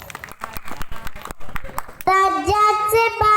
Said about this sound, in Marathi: जोरदार टाळ्या होऊन जाऊ देत भावेशसाठी।